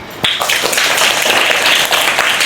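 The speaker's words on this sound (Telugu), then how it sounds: "కమాన్ చప్పట్లు" Loud applause from an audience at a school children's day celebration, a sustained wash of many hands clapping close by that starts abruptly and continues steadily.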